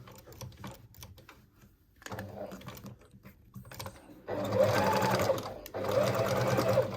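Sewing machine stitching along a denim jacket collar: quiet, uneven starts at first, then loud steady runs of rapid stitching close up, with a short pause before the final burst.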